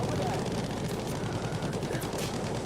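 Aircraft strafing gunfire in Battlefield 5, a dense continuous rattle of rapid shots under engine roar, loud and unbroken throughout the short stretch.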